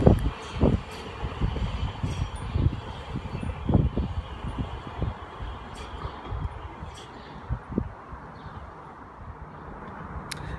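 A Southeastern Class 375 electric multiple unit train at an Ashford International platform, with low rumbling rail noise, wind buffeting and scattered clunks and knocks along the train, no voices.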